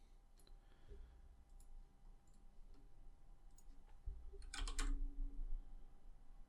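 Mouse button clicks during an OnShape CAD session, a few light clicks over faint background hum with a denser cluster of clicks near the end.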